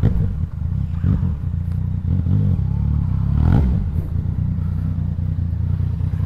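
A remapped Yamaha MT-09 motorcycle idles and revs with a deep, loud, throbbing engine rumble, occasional crackles and surges rising over a constant low drone throughout.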